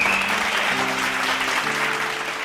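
A church audience at a Bible study gathering claps together, a loud, dense, continuous round of applause filling the whole moment, with a sustained keyboard chord beneath it.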